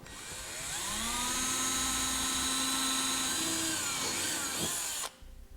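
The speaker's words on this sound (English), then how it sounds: "we're going to have just enough room to get the drill bit in there" A power drill whines steadily at high speed for several seconds, its pitch shifting slightly as it bites into a metal rivet, hollowing out its center, then cuts off abruptly.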